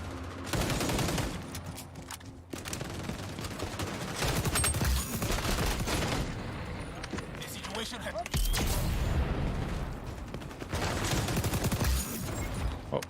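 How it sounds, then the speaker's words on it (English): Assault rifle fire from the video game XDefiant: dense, continuous bursts of rapid gunfire with scattered booms, all heard under steady game audio and someone talking throughout. "I want to build a rapid AR, like a quick moving AR like an AK"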